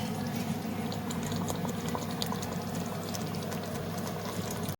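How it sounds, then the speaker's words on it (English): A pot of chicken and chickpea curry simmering on the stove, giving a soft, steady bubbling and faint burbling throughout, quiet and close with no talk. "And then let it simmer again."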